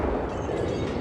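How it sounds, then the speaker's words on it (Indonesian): A rocket-powered Pontiac Fiero car exploding in a Fast & Furious 9 scene, a heavy, rumbling blast that sustains as a dense roar throughout the short span. "Mobil tidak meledak setelah balapan, namun ternyata meledak juga."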